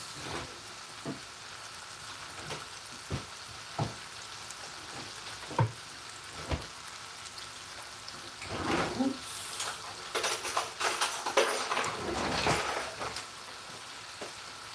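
Green leaves cooking Sierra Leone style in a pot, with a steady broadband frying sizzle and scattered sharp utensil knocks from stirring, growing busier and louder toward the end.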